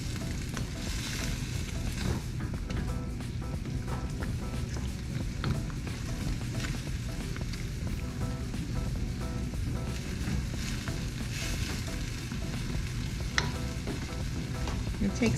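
Ramen noodles frying in a wok, a loud, steady sizzle close by with intermittent scraping and stirring knocks throughout.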